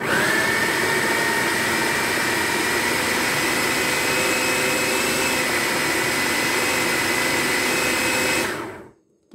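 A food processor whirs loudly and steadily while blending green seasoning herbs, a continuous motor roar that runs without pause for about eight seconds before cutting off abruptly into silence.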